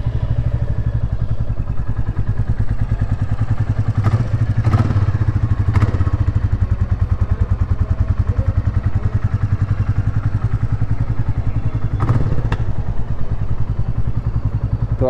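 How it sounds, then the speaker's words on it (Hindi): A Royal Enfield Classic 350 motorcycle idles close by with a deep, even thump, punctuated by a few brief sharp clatters. "बाइक स्टार्ट करके देखते हैं क्या कैसे साउंड कर रही है बाइक"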